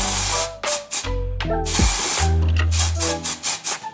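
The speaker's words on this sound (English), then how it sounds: "This is a dry shampoo." Dry shampoo sprayed onto hair from an aerosol can in several short, loud hissing bursts of uneven length, close to the listener.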